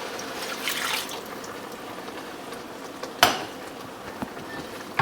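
Stock pours into a hot pan of peppers and rice, giving a steady bubbling sizzle and liquid rush with a few sharp clinks, close by and without talk.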